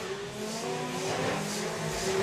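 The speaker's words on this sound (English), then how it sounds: "the 4-wheel drive 20-valve turbo Polo" A four-wheel-drive 20-valve turbo VW Polo launches down the drag strip at Santa Pod Raceway, a sustained loud engine roar rising with acceleration, heard from trackside.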